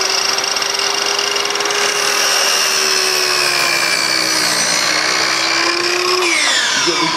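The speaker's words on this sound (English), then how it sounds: "this is a 10 amp circular saw" A 10 amp corded circular saw cuts through deck rail pieces, a loud, close, sustained whine that dips slightly in pitch under load and shifts at the end as the blade finishes the cut.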